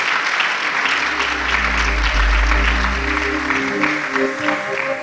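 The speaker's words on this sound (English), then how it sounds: "Please, let's give him a round of applause." Audience at an international e-learning conference applauding a speaker called to the podium, a dense, steady wash of clapping from a sizeable crowd filling the room for several seconds, with a low hum underneath.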